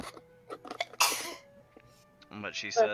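A sharp sneeze bursts out between stretches of conversation, followed by more talking nearby.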